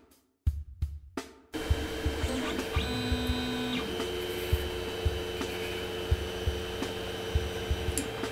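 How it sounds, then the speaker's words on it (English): A 3D printer works steadily with a constant motor hum and whine, rising pitched stepper tones and faint clicks, heard close up after a few sharp knocks at the start, with no talking. "you'll slowly see the printer start to work a little harder."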